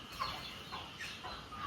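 Chickens cluck softly at a house during floodwater, several short, faint clucks repeating irregularly over a low background hush.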